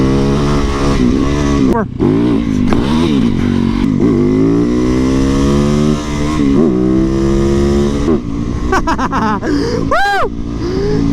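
A supermoto motorcycle revs and accelerates hard while wheeling through the gears, its loud, close engine note sweeping repeatedly up and dropping between shifts, with a short spoken word and cheering mixed in.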